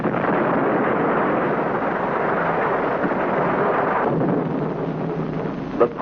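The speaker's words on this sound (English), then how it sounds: "The powerful atomic bomb, detonated by remote control from Earth, completely destroys the converter and the pumping system" An atomic bomb blast destroys a methane-to-oxygen converter and pumping system on Neptune, a loud, sustained rumbling roar like a huge explosion that holds steady and rolls on for several seconds before dipping near the end.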